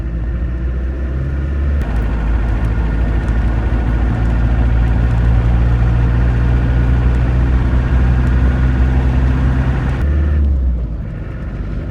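A 1992 Land Rover Defender 90 with a 200TDi diesel drones steadily from inside the cab in traffic, with a low engine rumble and road noise that shift in pitch before easing off near the end.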